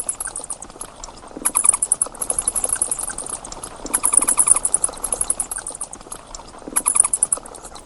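Bats screech in thin, high-pitched trills that come in clustered bursts over a rustling, pattering background, with no voices.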